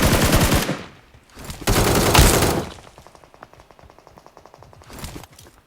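Bursts of automatic gunfire in PUBG Mobile, in a snowy town map, loud rapid volleys in two long blasts followed by a steadier patter of distant shots and a final short burst.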